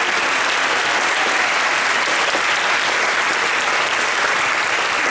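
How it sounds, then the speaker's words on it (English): A large audience of about 900 people applauds at a fireside chat at Hong Kong Disneyland, a loud, dense, unbroken wash of clapping that holds steady throughout. "how about a round of applause for all the hard work of everyone involved?"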